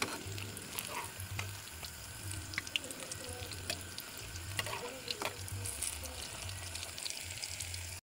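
Banana blossom fritters (ukoy) sizzle in hot oil in a pan, a steady crackling fry with scraping and clinks as they are flipped, while a person speaks softly in Filipino.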